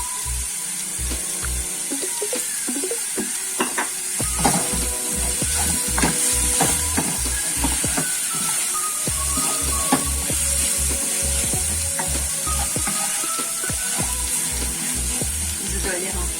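Savory crepe batter, made without milk or butter, fries in oil in a pan: a steady close sizzle with a recurring soft tapping and scraping rhythm throughout, and no one speaking.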